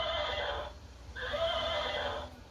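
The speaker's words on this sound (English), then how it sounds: "That was a horse." Two loud whinnies from a horse, played through an Alexa smart speaker, come in quick succession, the second longer and brighter, with a short gap between them.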